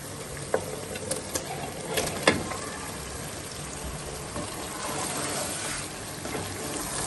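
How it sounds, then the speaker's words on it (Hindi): Meat (gosht) frying in a paste-like masala for aloo gosht, a continuous loud sizzle with a few sharp spits and stirring clatters near the start, no voices. "अब हम इसमें गोश्त डालकर भूनेंगे।"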